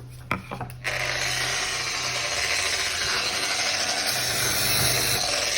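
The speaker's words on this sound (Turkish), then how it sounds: "Hatta biraz zımpara deneyelim." A steady, loud Bosch GWS 9-115 S 900 W angle grinder whir with a gritty abrasive hiss from sanding at low speed, running continuously after a few brief start-up knocks.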